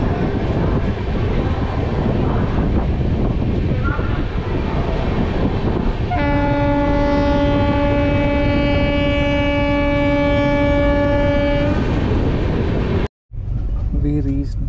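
An Indian express train pulls away from a station with a steady rumble of rolling wagons, and a long, loud horn blast sounds midway. A passing train is close by, and the noise continues to the end.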